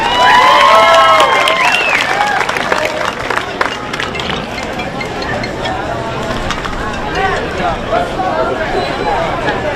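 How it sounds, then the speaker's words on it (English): Applause and cheering from a crowd at a junior livestock show, with clapping continuing steadily throughout and scattered shouts and voices mixed in. A person speaks over the applause near the start. "Give all these kids a big round of applause."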